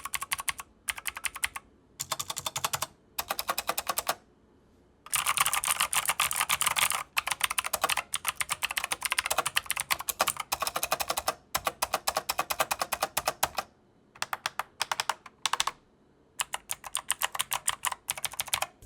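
Mechanical keyboard stabilizers pressed over and over, giving loud close rattling clacks, first in short separate bursts, then in long dense runs with brief pauses, and no voices.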